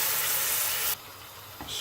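Steady, broad hissing sizzle from a hot pan while cooking prawn puri, close and loud, shifting in intensity partway through as the cooking stirs.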